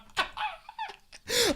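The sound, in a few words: dog barking in a TV show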